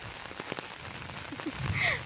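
Heavy monsoon rain patters steadily on a surface, a dense hiss of drops with a few louder splashes nearby.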